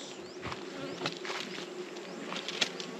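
Dense buzzing of many honeybees close by at a hive, a continuous droning swarm with occasional louder passes near the listener.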